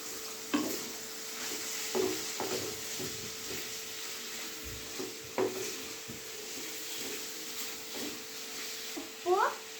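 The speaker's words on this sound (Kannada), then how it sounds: "ಈಗ ನಾನು ಮಶ್ರೂಮ್ ಹಾಕ್ತಾ ಇದ್ದೀನಿ." Mushrooms fry in a pan with a soft continuous sizzle and hiss, broken by several scraping stirs and light clinks of a utensil against the pan at intervals.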